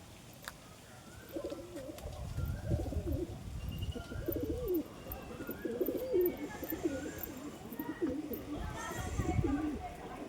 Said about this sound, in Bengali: খুবই সুন্দর পায়রা, দুটো কালো পায়রা